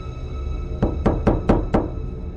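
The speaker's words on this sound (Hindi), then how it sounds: "रात के 2 बजे दरवाज़ा नॉक होता है।" Someone knocks on a door at night: five firm, evenly spaced knocks land close by against a quiet, faintly humming background.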